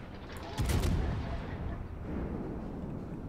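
Battleship main guns firing in the naval combat game World of Warships, heard as a heavy booming salvo with a sharp onset and a long rumbling tail under game noise, with a voice faintly present.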